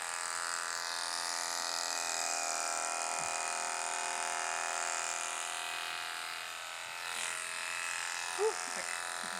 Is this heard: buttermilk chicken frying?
no